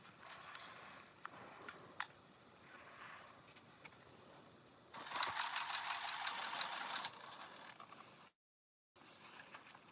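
A sewing machine stitches a bag in uneven bursts, with a louder, denser run in the middle, a brief stop, then more stitching, close and without talk.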